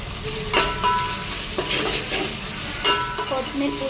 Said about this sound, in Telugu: ఇది మంచి ఆనియన్ ఫ్రై అయింది. కొత్తిమీర, పుదీనా అన్నీ ఫ్రై అయినాయి.